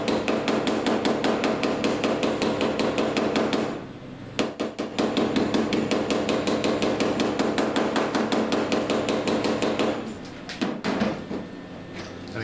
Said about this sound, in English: I'm working down along those creases with the hammer as I apply pressure